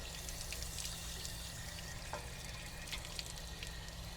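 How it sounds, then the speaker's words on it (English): Dirty, discolored water pours and splashes out of an RV water heater tank being flushed of calcium, a steady faint gushing trickle with no voices. "Oh man, you can see all the gook come out of there, that nasty colored water."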